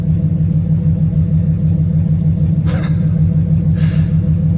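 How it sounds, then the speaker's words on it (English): Dual AlloyWorks electric cooling fans whir steadily on an idling 1967 Ford F100, a constant loud low rumble and drone throughout, with two brief airy whooshes riding over the engine. "Those are some powerful fans."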